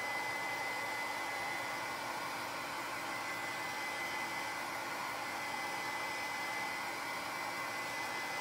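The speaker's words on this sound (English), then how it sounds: "we're gonna go in with our heat gun" A heat gun blows a steady, even whoosh of hot air to dry a mixed-media scrapbook layout, held close and running without a break, with no talk.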